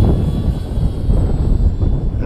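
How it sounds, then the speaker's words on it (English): Gaui X2 RC helicopter flying fast forward into the wind at full idle up, a loud, close, continuous rotor and motor roar with slight surges in intensity, nothing else over it. "Heli is probably the fastest forward moving heli I have."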